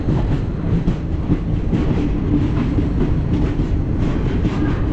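A train rolls along the tracks on a long Mumbai to Kolkata journey, heard from inside the coach as a loud, steady rumble with rhythmic clickety-clack of the wheels.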